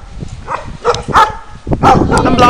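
A dog barks on a walk outdoors, several short close barks and yips in quick bursts over a couple of seconds, fairly loud, with no talk.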